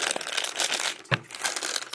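Glass beads scooped and gathered by hand, giving a continuous dense crinkling, rattling clatter with one sharper click-burst midway, close and fairly loud with no voices.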